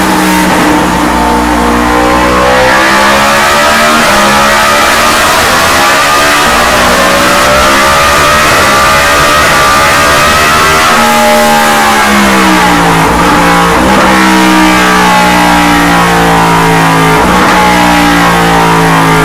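A 2023 Yamaha MT10 motorcycle with a full ECU remap revs hard and continuously on a dyno, its loud, close engine note climbing and dropping through sustained pulls with no talk.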